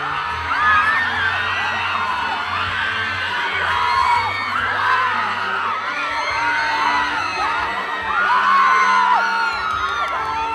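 A dense crowd of fans at a stage appearance by David Licauco, shrieking, whooping and shouting continuously and loudly, with high-pitched screams rising in waves.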